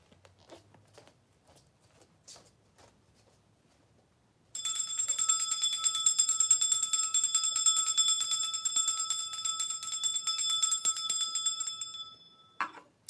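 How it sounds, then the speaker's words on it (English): A bell is rung to clear energy during a spiritual portal service, giving a bright, shimmering ring that holds steadily for about seven seconds after a quiet start, then stops. "Let me ring the bell."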